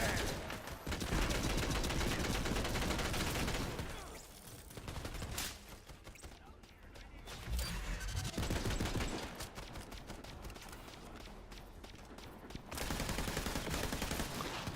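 Assault rifle and shotgun fire in Borderlands 3, loud and nearly continuous: dense rapid bursts broken by short lulls, then heavy volleys resuming toward the end.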